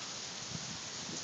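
Steady rain falls in an open park under a stormy sky, a dense, even hiss of drops on surfaces with no breaks, continuous and fairly close.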